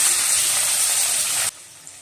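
Chopped onions hit hot frying oil already seasoned with a little cumin for a fish curry, giving a loud, steady sizzling hiss for about a second and a half before it abruptly drops to a quiet background.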